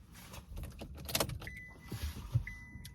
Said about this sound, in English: my car just turned off